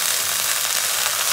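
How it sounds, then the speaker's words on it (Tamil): Chopped onions sauté in hot oil in a pan, giving a steady, loud, close sizzle that holds unchanged throughout. "வெங்காயம் வதங்குறது."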